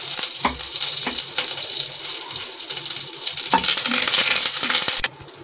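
Cumin seeds and a curry leaf sizzling in hot desi ghee make a loud, continuous hiss with a few sharp clinks, then cut off abruptly near the end.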